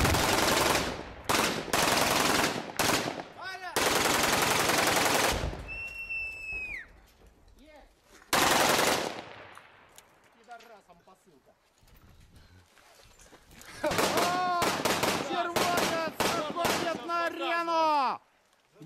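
Bursts of rapid automatic gunfire crack loudly in several volleys during the battle for Donetsk airport in Ukraine, separated by pauses, with shouting voices and whistling sounds between the bursts.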